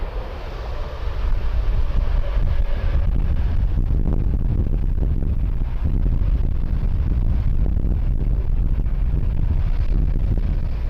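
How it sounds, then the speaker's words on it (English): Strong wind buffets the microphone in a continuous low roar at an airport, steady and loud throughout, with no clear talk. "Still very windy."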